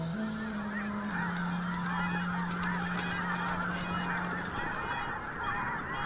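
A large flock of red-breasted geese calls together in a dense, continuous chorus of overlapping honks and yelps, loud and sustained throughout, with a steady low drone running beneath.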